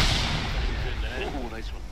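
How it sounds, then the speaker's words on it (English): A grenade blast inside a church in the military shooter ARMA 3, a dense, reverberant rumble of explosive noise sustained over a couple of seconds, with distant gunfire character and faint voices underneath. "Grenade in the church."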